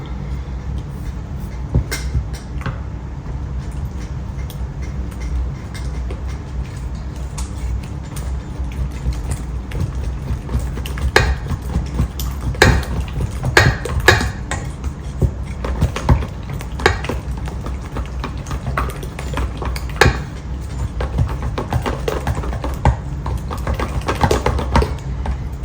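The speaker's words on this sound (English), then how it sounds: "I'm going to whisk that together and get that all combined" Milk being whisked into a sourdough discard and egg mixture for breakfast muffins, with a steady stream of quick clinking and scraping strokes against the bowl that runs throughout.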